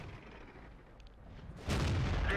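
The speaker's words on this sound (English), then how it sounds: "We put a shot into the T-50, but it must have gone through some spaced armor or something" A heavy tank cannon shot in World of Tanks, fired from a Type 62 light tank, lands as a sudden booming blast after a quiet stretch and holds as a loud sustained roar.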